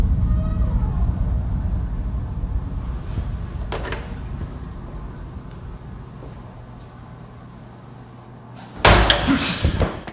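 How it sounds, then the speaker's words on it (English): A restroom stall door slams shut abruptly near the end, a loud close bang after a stretch of low background rumble and faint noise. "the stall door slams shut on its own"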